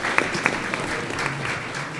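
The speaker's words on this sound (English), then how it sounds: "Let's just give her a round of applause." An audience at a school district governing board meeting applauds, a steady wash of many clapping hands with a few sharper individual claps near the start, and a faint voice underneath.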